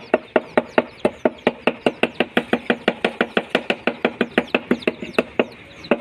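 Chicken feed for young chicks is chopped finely with rapid, evenly spaced knife strikes, roughly four crisp chops each second, repeating steadily and close by with no voices.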